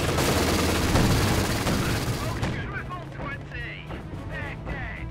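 An HQ under assault in a Company of Heroes 2 battle with British forces: dense artillery and rapid gunfire pound loudly at first, then thin to scattered bursts and booms as voices break through.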